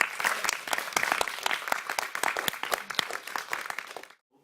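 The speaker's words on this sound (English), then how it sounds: "Round of applause," A small audience at a university screen drama class gives a brisk round of applause. The dense, close clapping runs for about four seconds and then stops abruptly.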